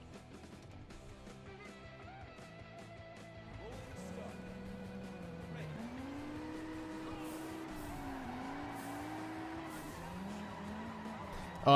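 A car drifts in the racing video game Juiced 2: Hot Import Nights, with a rising engine and long wavering tire squeals growing louder, faint talk underneath.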